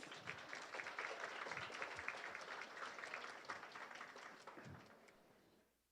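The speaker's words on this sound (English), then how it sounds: "A big round of applause for them" Distant crowd applause at a business school HR conclave, a steady wash of many hands clapping that holds for several seconds and then fades away.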